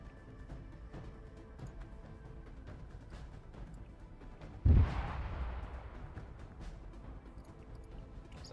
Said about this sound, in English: Sounds like artillery or something.